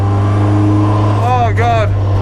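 Mazda MX5 fitted with a turbocharged SR20 engine holds a steady, loud drone while driving, with a brief voice rising and falling over it midway.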